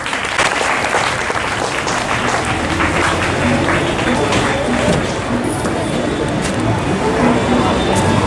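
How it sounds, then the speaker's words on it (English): Audience applause at a school Durga Puja celebration, a loud dense sustained clapping that fills the hall, with some murmur underneath. "Let us put our hands together and welcome Dr."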